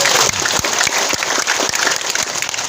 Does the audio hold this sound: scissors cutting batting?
no